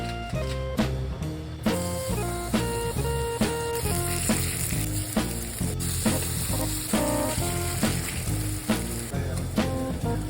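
Freshly caught Florida fish frying in a pan gives a steady, continuous sizzle throughout, mixed under loud rhythmic background music with no voices.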